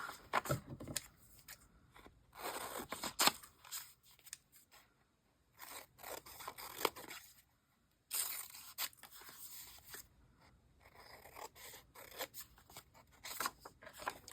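Scissors snip through magazine paper, cutting around a printed face in quick bursts of crisp, close crunching cuts separated by short quiet pauses.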